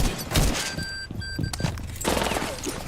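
Grenade going off during a Ubisoft 1v1 competitive shooter match: heavy thumping booms and crackling bursts crowd a few seconds of dense, loud game audio.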